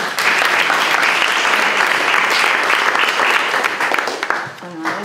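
An audience at a forum event bursts into loud, steady applause that swells and then tapers off near the end.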